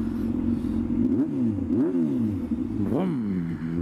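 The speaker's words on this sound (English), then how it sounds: "Love having a better exhaust than what I had." A motorcycle with an aftermarket exhaust revs in several sharp blips, pitch rising and falling three or four times over a loud, steady idle rumble nearby.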